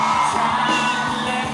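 A live rock concert crowd screams and cheers loudly, a dense sustained roar of many voices, for a short moment.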